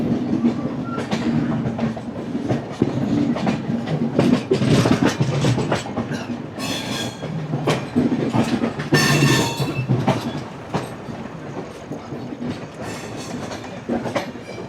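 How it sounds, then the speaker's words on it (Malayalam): A local train runs alongside on a parallel track near Vasai Road, its steady rumble and clickety-clack of wheels carried loud and close, with brief bursts of high metallic squeal and hiss mid-way; no voices. "അപ്പുറത്ത് കൂടെ ലോക്കൽ ട്രെയിൻ കയറി വരുന്നത് കാണാം."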